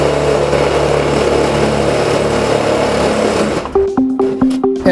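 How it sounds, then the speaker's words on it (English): Screws being driven into the end plate of a Calcana PHS50 outdoor gas patio heater, a steady whirring drive that stops, followed by a few short rhythmic tightening pulses, close and fairly loud without talk. "we're only going to put in 2 screws to hold it in place"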